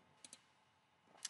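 A mouse click on OK in Revit 2025 software: two quick, faint clicks near the start, then a sharper single click at the very end, close and quiet, with no talking.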